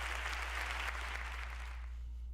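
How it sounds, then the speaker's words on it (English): Applause from an audience, a dense burst of clapping that swells briefly and then fades out over a steady low hum. "That deserves applause."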